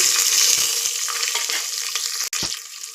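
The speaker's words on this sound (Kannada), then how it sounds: "ಈರುಳ್ಳಿ ಫ್ರೈ ಆಗ್ತಾ ಇದೆ" Onions fry in hot oil with cumin seeds and cashews for corn palak pulao, a loud, close, bright sizzle with a few stirring scrapes and one sharp click near the end.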